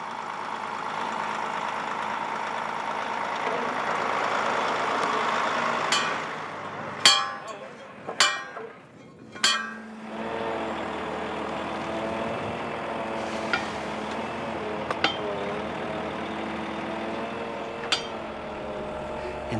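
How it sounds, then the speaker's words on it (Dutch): A truck delivering wood chips idles with a low, steady engine rumble under talking. A few sharp knocks and clanks come in the middle, then the engine settles into a lower, smoother drone. "hij komt het zelf brengen met de vrachtwagen"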